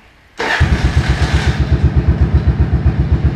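A 1983 Yamaha Virago 750 Midnight Special motorcycle cranks and fires up, then settles into a loud, close, lumpy idle with a steady throbbing pulse.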